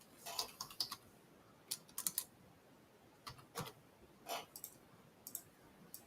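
Someone types text on a computer keyboard in short bursts of quick key clicks separated by pauses, close by and fairly quiet, with no talking.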